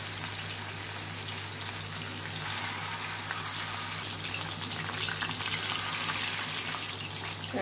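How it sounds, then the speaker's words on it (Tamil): Parrot fish pieces coated in pepper masala frying in hot oil, a steady, dense sizzle crackling continuously at close range with no talking. "இப்போ ஒரு 10 நிமிஷம் கழிக்கட்டும், நம்ம வந்து பொரிச்சு எடுத்துடலாம்."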